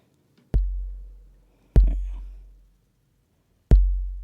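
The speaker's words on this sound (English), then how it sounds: "which is just a filter that's being pinged, which is creating the kick sound" Synthesized kick drum from a pinged filter, three deep booming hits with quick attack and long decaying tails, spaced unevenly and isolated.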